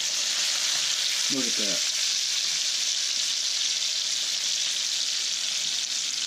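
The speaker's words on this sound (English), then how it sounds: "so we're going to flip this steak" A Delmonico steak sears in a hot pan with garlic and butter just after being flipped, giving a steady, close, loud sizzle throughout, with a brief spoken comment early on.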